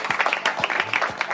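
A TV game show studio audience claps briefly, with a few sharp individual claps standing out over a light, uneven patter.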